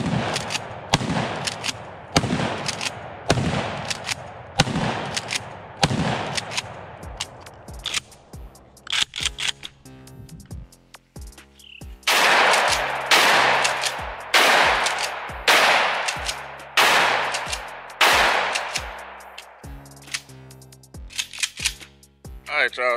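A shotgun loaded with buckshot fires at targets outdoors, a series of loud, sharp blasts spaced a second or two apart with ringing decays, close by, interspersed with a shooter's voice and quieter mechanical clatter between shots.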